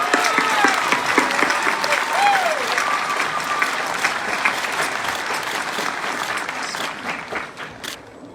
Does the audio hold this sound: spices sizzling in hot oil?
no